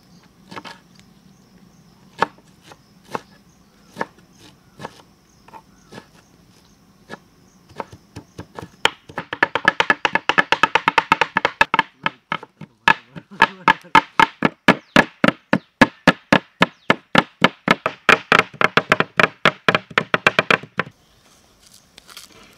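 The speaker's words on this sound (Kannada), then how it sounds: "ಮಟನ್ದಾಗ ನಾವು ಕತ್ತರಿಸಿ ಮೆಂತೆ ಪಾಲಕು ಪುದೀನ ಕೊತ್ತಂಬರಿ ಹಾಕಾಕತ್ತೇವೆ" Fenugreek, spinach, mint and coriander being chopped on a board for mutton khichdi in a village kitchen: sparse knife strikes at first, then a fast, steady run of loud, close chops, with no talk.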